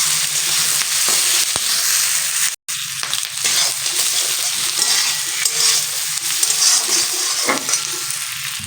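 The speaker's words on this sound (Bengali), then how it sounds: "এগুলো আমি হালকা করে ভেজে নেব" Garlic and ginger frying lightly in hot oil, a steady close sizzle with occasional scraping stir sounds and one brief dropout partway through.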